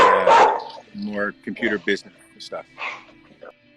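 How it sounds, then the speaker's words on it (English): At home, a dog barks and yips in several quick bursts, close and loud, while a person talks over and between the barks. "That's my dog."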